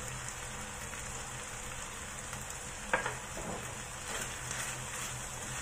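Sliced lamb and spinach frying in a pan, a steady close sizzle with a brief stirring clatter near the middle and softer scraping toward the end.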